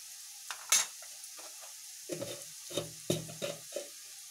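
A spoon stirs turmeric into hot oil in a cooking pan, giving a handful of separate scraping strokes over a soft sizzle, close and moderately loud.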